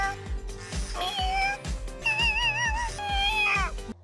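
A Bootsie Kitty robot cat toy gives off a series of electronic meows and chirps, several wavering synthetic cat calls in close succession that sound near and fairly loud over a rhythmic backing.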